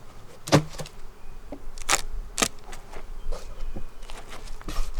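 Honeybees buzz around an open, packed hive in Georgia, a faint steady hum punctuated by several sharp close knocks and clatters of hive woodware being handled.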